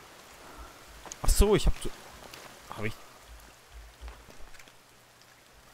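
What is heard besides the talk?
rain from the video game The Forest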